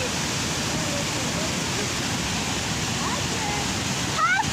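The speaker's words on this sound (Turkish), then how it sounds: "Muradiye Şelalesi var." Muradiye Waterfall in Van, Turkey, gives a close, loud and steady roar of rushing water that fills the scene evenly from start to finish.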